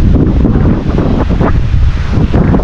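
Loud, rumbling wind buffets the microphone as large waves crash and wash continuously, a heavy roaring surf with no voices.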